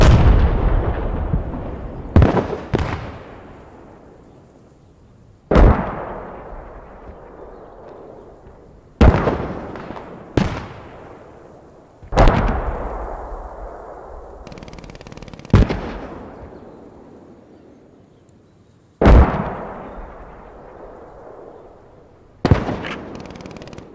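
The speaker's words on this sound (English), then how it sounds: "The mortars are very good on this map" Mortar artillery fire in the wartime shooter game Post Scriptum: seven heavy, booming impacts spaced a few seconds apart, each a sharp loud crack that rolls into a long decaying rumble, with no talk over them.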